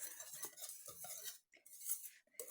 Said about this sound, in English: I'm gonna mix this all up